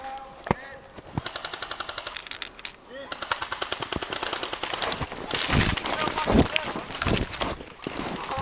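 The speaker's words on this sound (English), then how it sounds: "Shit, I'm getting pinned down. Yeah, I shot you, Logan." Airsoft guns firing during an outdoor airsoft battle, with a steady rapid rattle of close shots followed by irregular bursts and louder single pops, while players shout and talk over the gunfire.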